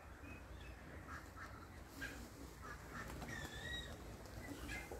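Startled gulls call out in sharp, scattered squawks over a steady outdoor background hiss. The calls are moderately distant and overlap one another.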